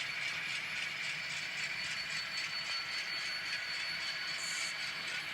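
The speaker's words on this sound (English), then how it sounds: "Also have a coal train coming up on the 3rd level." Steady mechanical clicking and rattling of a small N scale model train running continuously on track, even rhythm, moderately close with no voices.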